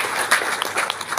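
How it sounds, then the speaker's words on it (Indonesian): Brief burst of audience applause at the launch event for a mosque-backed KUR loan programme, a light, scattered clapping heard at moderate level for about a second. "Tepuk tangan sekali lagi."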